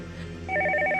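A telephone rings indoors, a loud, steady electronic ring with repeating tones that starts partway through and continues to the end.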